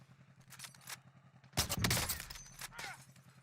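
Sniper rifle shots in a first-person shooter video game, a sharp loud burst of gunfire with clattering and debris, preceded by softer game ambience and followed by further impacts.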